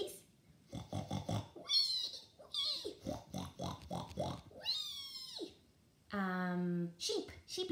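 A person makes playful animal noises, including nasal grunting sounds imitating a pig's oink, between bursts of speech.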